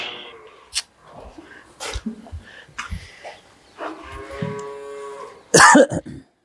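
A dairy cow in a farm shed lows in long, loud harmonic moos, heard close, with a few shorter snorts and a sharp sneeze-like burst near the end.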